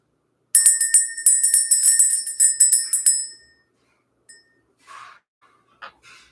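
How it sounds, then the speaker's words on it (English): A small bell is rung rapidly for about three seconds, a bright, shimmering, repeated tinkling close by, then fades, leaving a few faint rustles and knocks. "Let's go ahead and ring the bell."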